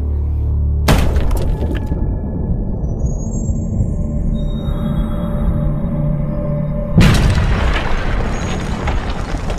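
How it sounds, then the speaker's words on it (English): Heavy stone mace slamming into skull bones in a slow-motion weapons test: a sharp booming crack with a shattering burst near the start, dense rumbling debris noise through the middle, then a second loud impact toward the end. "we can see just how much damage a heavy stone mace can inflict on the bones of a skull"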